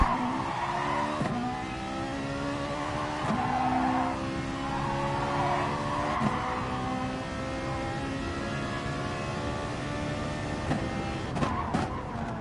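Race car engines in a racing video game, a Corvette and an NSX, droning and revving steadily with shifting pitch through tight corners, a continuous layered engine whine with occasional brief clicks.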